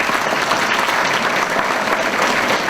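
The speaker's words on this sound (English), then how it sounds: "give them a round of applause, right?" Dense, steady audience applause fills the room at an officer installation dinner, a crowd clapping for the staff without a break from start to finish.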